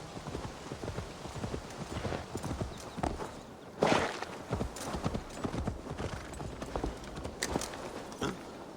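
Steady clip-clop of horse hooves at a walking pace in the Assassin's Creed video game, close and continuous, with a brief whinny partway through.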